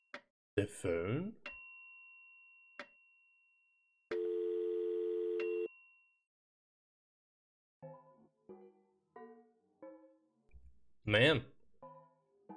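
In the video game OMORI, a telephone gives off a synthetic tone. Short beeps and chimes lead into a steady buzzing tone lasting about a second and a half, followed by a string of brief electronic blips.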